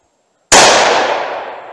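A single loud, sharp gunshot from a .327 Magnum revolver firing Federal American Eagle ammunition, cracking suddenly after silence and decaying over about a second.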